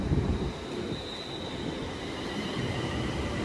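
A London Northwestern Railway Class 350 electric multiple unit pulls into Watford Junction on the London Euston to Tring service, a steady loud rolling rumble of wheels with a faint high squeal running through it.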